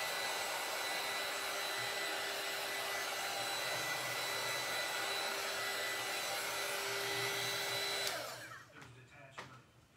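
A hot air gun blows steadily while drying paint on a board, a loud, continuous whooshing roar that cuts out near the end, leaving a few faint clicks and handling sounds.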